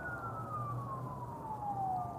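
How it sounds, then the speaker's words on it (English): A siren outside wails in a steady descending sweep, moderately loud and somewhat distant, over a low rumble of background noise, with no voices. "I hear sirens."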